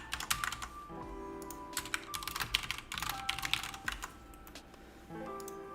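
Typing on a Ducky One keyboard, a mechanical computer keyboard, comes through as close, quick bursts of clicky keystrokes separated by short pauses, over a low steady hum.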